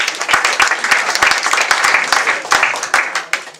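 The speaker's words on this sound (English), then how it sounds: "clap for these guys" A conference audience applauds Dell presenters after a desktop virtualisation session. The clapping is loud and close, with sharp individual claps standing out from the crowd.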